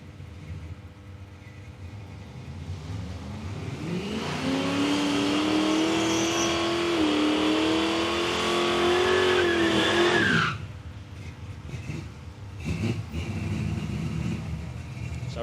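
A drag racing car at Palmyra Raceway in Australia launches with boost and spins its tyres, the engine roaring loud and steady as it accelerates, then cutting off abruptly with a few fainter engine sounds after.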